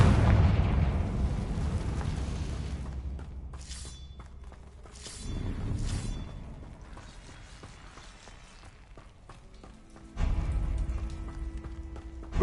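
A Confringo blasting spell going off in a Hogwarts Legacy-style video game: booming explosive bursts with shattering, mechanical crackle, swelling and fading in waves, then a sharp renewed surge near the end.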